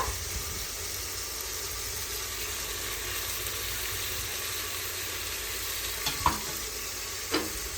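Onions fry in an electric cooker with tomato and coriander, giving a steady, close sizzle throughout, with two brief clinks near the end.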